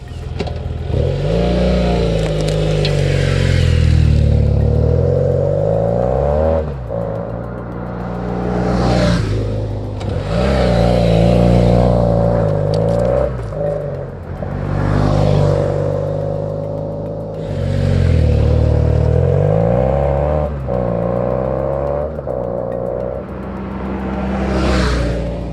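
A 2011 BMW F800GS motorcycle engine revving repeatedly, several loud rising and falling surges with idle dips between them, close and continuous, with no talking.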